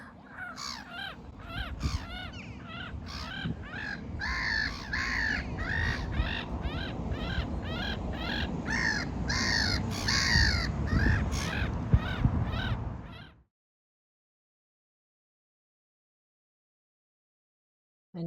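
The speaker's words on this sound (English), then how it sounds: "There was one black-headed gull making funny noises." Black-headed gulls calling harshly and repeatedly in a dense, overlapping flock chorus, loud and continuous for about thirteen seconds before abruptly cutting to silence.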